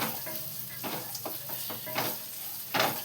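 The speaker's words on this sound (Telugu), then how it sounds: "చూడండి ఇలా అది జీడిపప్పు గోల్డెన్ కలర్ వచ్చింది" Cashew nuts frying in a pan for rava laddu, a steady close sizzle broken by irregular scraping and stirring strokes and light clinks of a spoon against the pan.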